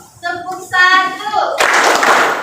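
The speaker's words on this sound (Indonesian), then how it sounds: "Tepuk satu, dua, tiga." A class of children claps together during a clap chant, with young voices chanting around it and a burst of hand claps near the end of the short moment.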